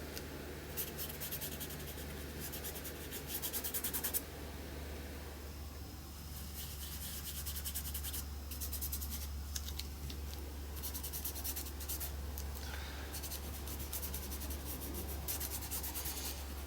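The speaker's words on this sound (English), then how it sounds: "use your fingers, so I'm just going to rub it" Fingers rub purple pastel along the edge of a sheet of paper, giving a steady, soft scratchy friction that runs continuously and close up, with brief denser strokes early on and no talking.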